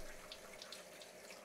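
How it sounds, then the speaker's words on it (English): A faucet runs in a steady, fairly faint stream of splashing water, continuous and unbroken for a moment with no voices over it. "Just look at that faucet. Running water and everything."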